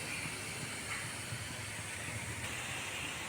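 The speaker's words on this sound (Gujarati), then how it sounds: "વરાળ નીકળી રહી છે, ઈદડા બફાઈ રહ્યા છે" Steam hisses steadily from a large pot in which idada, a Gujarati steamed breakfast cake, is cooking. The hiss is a continuous, even, close rush that lasts throughout with no pauses.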